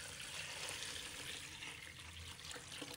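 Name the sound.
pouring clean water to wash chicken legs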